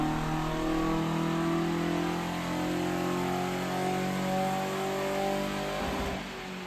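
A car with a 2-litre Ford Pinto engine revs hard on dyno rollers, a loud, steady mechanical drone with rising harmonics that holds through the pull before easing off near the end.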